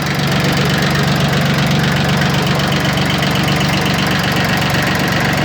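A Mitsubishi MT1401D four-wheel-drive Japanese tractor idles steadily up close, its engine running evenly with a constant loud chug and no breaks.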